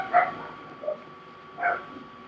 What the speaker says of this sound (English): Sorry, my pups are barking again.